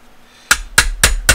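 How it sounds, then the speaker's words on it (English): Four sharp metallic hammer taps, close and loud, drive a punch through the frame of a Smith & Wesson M&P 9 pistol during disassembly, evenly spaced after a brief quiet start. "So, I'm going to grab our hammer,"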